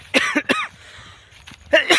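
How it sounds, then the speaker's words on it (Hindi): Two quick, harsh coughs close to the mic, a short pause, then another rough pair of coughs. "खांसी आने लगी"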